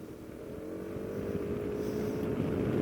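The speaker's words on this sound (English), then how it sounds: "Bike's got a good sound" Piaggio BV350 scooter engine on a test ride, a steady droning hum that builds gradually in loudness, with wind rush over the microphone and no talking.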